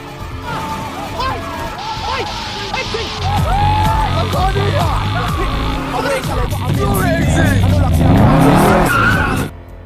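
A stolen car in an action film tears away at speed, tires squealing and skidding in continuous wails over a roaring engine, loud and close for about ten seconds.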